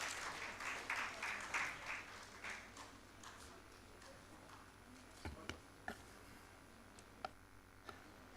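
Scattered applause from a conference audience welcoming a speaker at an international economic growth conference in Nepal, strongest at the start and then thinning to a few isolated claps and taps.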